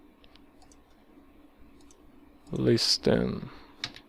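A computer keyboard is typed on in a short burst of several quick clicks, close and fairly loud, with a lone click after; a voice speaks briefly alongside.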